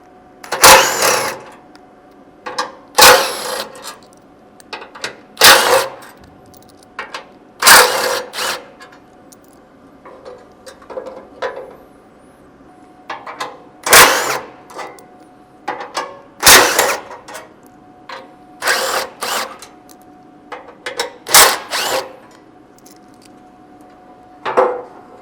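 Socket wrench turning out the winch mount plate screws on a Ford Bronco bumper, heard as a string of sharp, close metallic clicks and clatters in irregular bursts, roughly a dozen over the span, with quiet gaps between.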